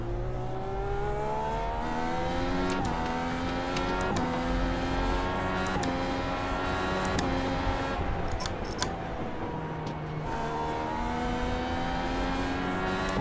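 A Dallara IR18 open-wheel race car in the iRacing sim, its engine wailing loudly with repeated sharp upshifts and downshifts as it brakes and accelerates through corners, with no voices over it.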